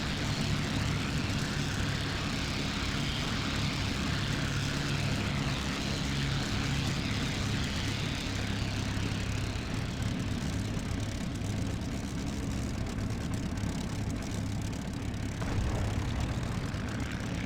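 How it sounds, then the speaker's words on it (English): Propeller aircraft engines drone steadily and loudly as carrier planes take off one after another in the IL-2 flight game, a continuous roar with no gaps, heard alone without talk. "It takes quite long to take off all 6 aircraft"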